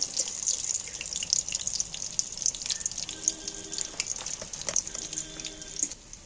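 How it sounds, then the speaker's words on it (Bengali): Fish pieces for chilli fish frying in plenty of hot oil make a soft, steady bubbling sizzle with faint crackles, fairly quiet and without talk. "এখন পুরপুর পুরপুর করছে, ওই যে একটু আওয়াজটা বন্ধ হলে তারপর তুলবো, আর একটু লাল করে ভাজবো।"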